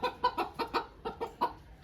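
A village chicken clucks in short, rapid bursts, roughly eight sharp calls over a couple of seconds, close and fairly quiet.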